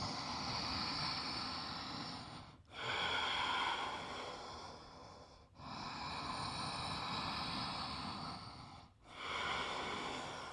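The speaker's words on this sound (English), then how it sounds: "3 deep breaths" Three slow, deep breaths held during a humble warrior yoga pose, each long airy inhale-exhale close to the mic, separated by short pauses.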